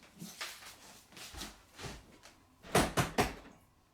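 A stuck or locked bathroom door is rattled and tugged, with a series of knocking thumps and handle jolts, a tight cluster of three loud bangs coming late before it fades.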